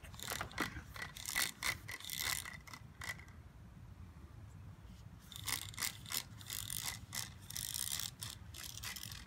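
A zipline pulley rolls along a steel cable with a rattling, ratcheting mechanical whir that comes in dense clicking bursts, eases off briefly midway, then picks up again, close and fairly loud.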